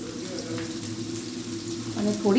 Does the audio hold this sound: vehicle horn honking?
no